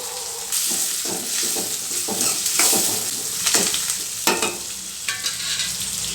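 Chopped ridge gourd sizzles and fries in a pan while being stirred, a steady close crackle broken by repeated scraping strokes of a spoon against the pan.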